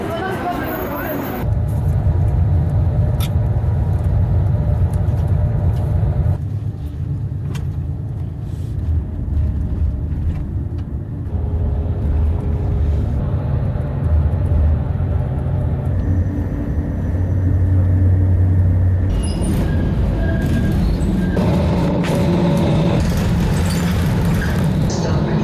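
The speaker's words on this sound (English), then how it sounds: "And this is my bus pulling in 3 hours late." A Flixbus coach pulls in with a steady, loud engine rumble and road noise that shifts in pitch and level as it maneuvers, with a few brief hisses and clatters over the drone.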